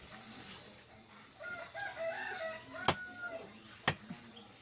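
A rooster crows a long, wavering call at moderate distance, followed by a couple of sharp knocks against a quiet background.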